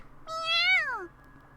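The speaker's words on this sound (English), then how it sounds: "The transceiver cat meows sweetly in reply." A small black kitten in the video game You And Me And Her gives a single sweet, rising-then-falling meow, clear and close over a quiet background.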